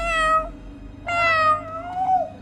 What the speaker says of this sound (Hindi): लगता है कोई बिल्ली घुस गई है।